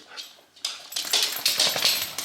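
A puppy whimpers and snuffles close by during an electrician's service call, a faint soft whine followed by a louder run of breathy, high-pitched whimpering sounds, with no talking.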